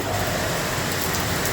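Heavy rain pours steadily onto a flooded road, a dense, continuous hiss with no gaps, close and loud and with no voices over it.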